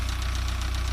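A vehicle engine runs steadily with a low, even rumble and a slight rhythmic knock as it gets ready to pull away, loud and close for a brief moment.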